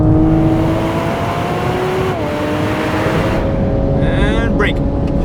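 Toyota Supra engine at full throttle on a track, a loud close drone whose pitch climbs steadily, with a brief dip at a gear change before rising again, then a squealing tyre or whine near the end.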